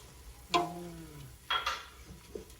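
Bacon stirred as it fries in a pan, with a steady low sizzle and a few sharp scraping and clinking strokes of the utensil standing out close and clear.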